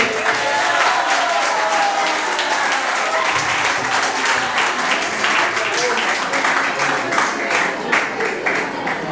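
Loud, sustained audience applause at a youth poetry gathering, dense clapping from a large crowd filling the whole stretch evenly and close up, with a voice faintly mixed in.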